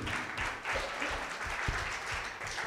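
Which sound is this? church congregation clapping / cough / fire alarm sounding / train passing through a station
church congregation clapping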